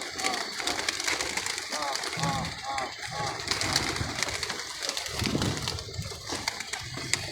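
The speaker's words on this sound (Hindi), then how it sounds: "एक ये कबूतर भी है।" Pigeons kept in a box coo in soft, repeated rolling calls, close by, against steady background noise and a voice talking.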